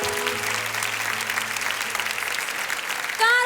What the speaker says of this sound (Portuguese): Aplaude, vai, pode aplaudir.